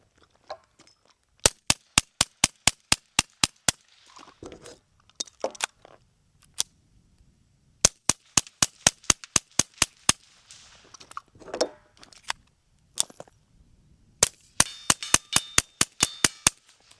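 A Volquartsen Scorpion pistol with a battle-worn finish fires three rapid strings of sharp, loud shots, each roughly eight to ten cracks in quick rhythm, separated by pauses with faint handling clatter; no talking.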